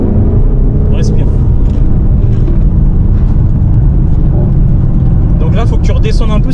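A 2024 Ford Mustang Dark Horse drives a race circuit, its engine a steady loud broadband drone from inside the cabin, with an instructor talking over it throughout.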